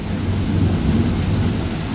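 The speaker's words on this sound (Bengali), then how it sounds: "অনেক বৃষ্টি হচ্ছে" Heavy rain pours in a dense, continuous roar with a deep rumble of thunder underneath, loud and close, during the first rain of the Baishakh season in West Bengal.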